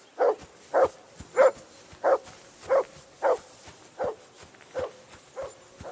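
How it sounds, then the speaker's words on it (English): Dog barking in Kingdom Come: Deliverance II, about ten evenly spaced single barks at a steady rhythm, fairly close and loud, with no talking over them. "Jesus, Henry, that barking's driving me nuts."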